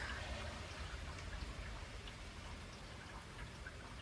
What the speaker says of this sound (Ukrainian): І так тихий, спокійний дощик.